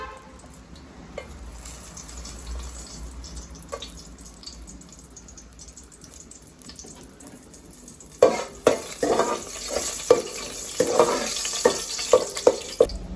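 Whole spices for chicken biryani start sautéing in hot oil, a quiet kitchen giving way to loud, close sizzling with sharp crackles and pops continuing to the end.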